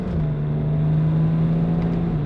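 A 2012 BMW 135i accelerating at half throttle from a nearly cold engine, a loud, steady low engine drone heard from inside the car that climbs slightly in pitch, continuous with no talk.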